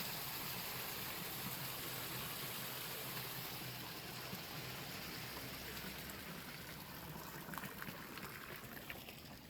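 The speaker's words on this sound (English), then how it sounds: "there's more to the small pond, which the faucets spill into" Faucets spill water into a small pond at an outdoor art installation, making a steady, dense rushing and splashing that continues throughout without pause.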